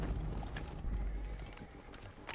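Horse hooves clatter in a quick galloping clip-clop in Assassin's Creed Origins, fairly faint and steady under game ambience.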